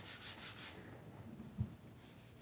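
A hand rubs across the open-pore satin finish of a Taylor acoustic guitar, a faint dry swishing in short strokes with a small knock partway through.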